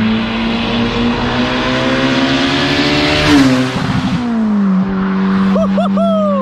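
A 350bhp turbocharged car driving past on a road, its loud engine drone rising as it nears, then dropping pitch as it passes and fades, with a brief voice near the end.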